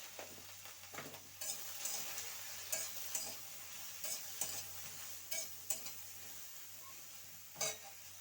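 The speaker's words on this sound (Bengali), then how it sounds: "শাপলাটাও কিন্তু ভাজা হয়ে গেছে" Water lily fritters frying in oil in a home kitchen, a soft low sizzle broken by sharp utensil taps and clinks against the pan at irregular intervals, with no voices.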